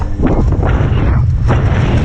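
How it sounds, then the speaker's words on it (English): Loud wind gusts of around 40 knots buffet the microphone, a heavy low rumble with surging bursts of whooshing noise, close and continuous, no voices. "Oh, look at the gusts. Freaking 40 knots right now"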